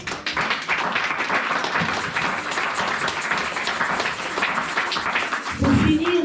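A church congregation claps and cheers in praise of the Lord, a dense, steady wash of applause filling the room, with voices rising through it and a louder burst near the end.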